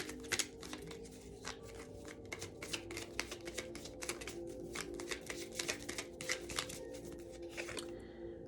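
Tarot cards being shuffled by hand give a dense run of crisp riffling clicks and slaps, close and fairly quiet over a soft steady background hum, with no talking.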